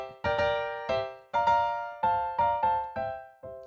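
A theme on a piano-like instrument, harmonized with conventional tonic, predominant and dominant chords, struck as a short series of distinct block chords with decaying sustain, clear and alone.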